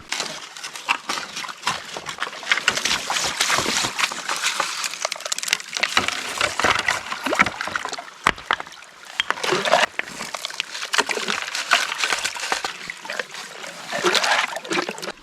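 Gravel and water being shovelled into a gold prospecting sluice outdoors, a steady run of wet splashing, trickling and gritty stone clatter with repeated scoops, no talk.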